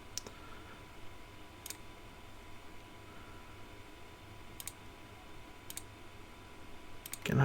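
Mouse clicks from a computer mouse used in WinOLS tuning software, a handful of sharp isolated clicks spaced irregularly over a quiet background hiss, close and fairly faint.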